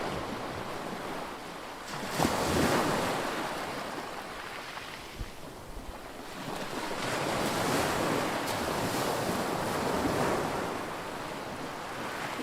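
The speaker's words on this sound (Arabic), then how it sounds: "حاليا في وسط البحر" Sea waves wash and surge steadily in the Red Sea at Dahab, with gusty wind buffeting the microphone; the surf swells and recedes in broad, continuous washes out on open water, with no voices.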